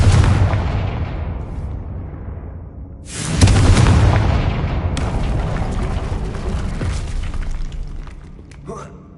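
The Confringo explosion spell goes off in Hogwarts Legacy: loud, rumbling booms with a long crackling tail, a second blast hitting about three seconds in and fading slowly.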